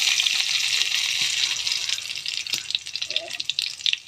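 Dried red chillies fry in hot oil after mustard and cumin, giving a loud, continuous close-up sizzle with scattered crackles and brief clinks that stays steady for about four seconds.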